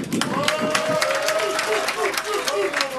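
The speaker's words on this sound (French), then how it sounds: "Applaudissez." An audience at a Rap Contenders battle rap event claps and cheers with loud, steady applause and sharp individual claps, while raised voices carry over the crowd throughout.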